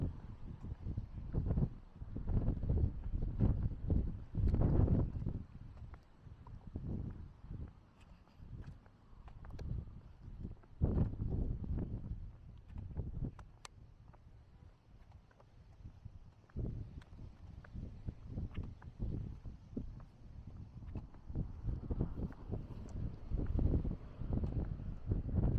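Strong wind buffeting a microphone outdoors during a walk, with constant low rumbling gusts and thumps pounding steadily throughout, loud and close.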